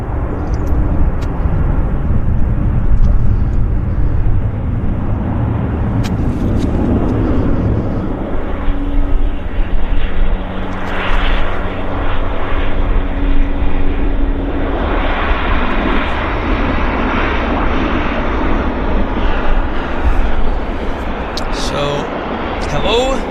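A WestJet Encore airliner arrives at Vancouver airport with a continuous engine rumble and whine that swells and holds over about twenty seconds. Voices talk over the engine noise.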